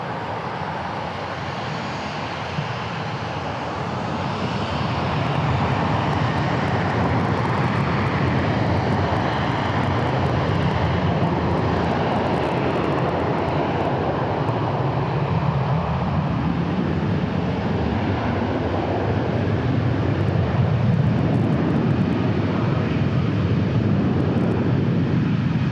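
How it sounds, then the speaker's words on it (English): A Boeing 737 jet airliner takes off from DFW bound for Denver, its engine roar building after a few seconds into a loud, sustained, rumbling drone that lasts through the rest, with no voices. "this 737 is going to Denver"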